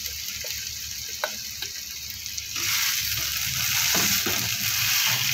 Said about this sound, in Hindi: फ्राई कर रहे हैं।